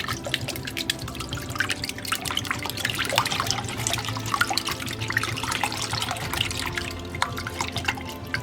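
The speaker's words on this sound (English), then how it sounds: "I'm going to start gradually adding the oat milk, and I'm going to stir as I go along." Oat milk being stirred into a vegan batter for a blooming onion, heard as a steady close wet swishing and dripping liquid texture, continuous without talk.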